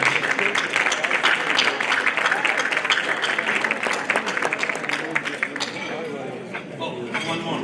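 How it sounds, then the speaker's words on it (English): An audience at an awards dinner applauds steadily and fairly loudly throughout, with voices mixed into the clapping and a slight thinning toward the end. "One round of applause for everyone."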